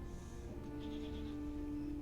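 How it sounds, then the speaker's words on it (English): A sheep in the Dragon Age: Origins video game bleats in a short, faint quavering call over a low, steady background hum. "Shut up, sheep."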